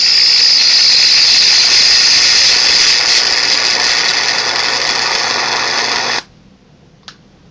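High-voltage arcs from a super flyback transformer driver running off one lead acid battery: a loud, steady hissing buzz for about six seconds, then it cuts out with a single faint click afterward.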